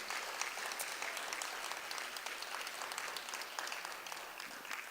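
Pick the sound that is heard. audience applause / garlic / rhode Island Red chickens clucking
audience applause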